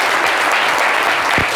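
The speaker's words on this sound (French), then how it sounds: "J'aimerais qu'on fasse le tonnerre d'applaudissements pour le King Gadjisselli." A French television studio audience gives a loud, thunderous round of applause, a continuous close wall of clapping.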